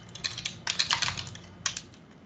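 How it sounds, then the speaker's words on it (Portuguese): Quick typing on a computer keyboard in bursts of rapid clicking keystrokes with short pauses between, close and fairly clear, no voices. "Eu estou digitando errado hoje."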